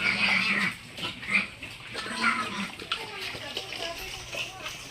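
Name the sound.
young pigs grunting while competing for food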